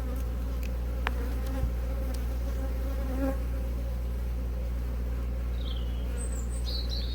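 Honey bees swarm around an open hive at an apiary, making a steady, close, low buzzing hum throughout, with a few faint bird chirps in the background.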